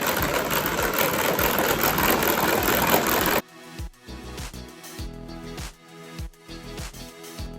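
A kitchen mixer whips sugar into a mixture at its lowest speed, a loud steady whir for several seconds, then cutting to quieter clunks and thuds.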